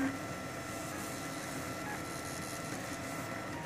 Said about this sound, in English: It's printing with black PLA at 186 Celsius.